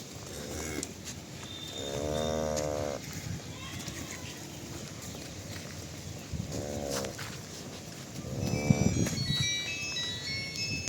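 A cow moos in several long, loud calls at a cattle market where cows and calves are sold. The calls come between bursts of people talking, with farm background noise throughout.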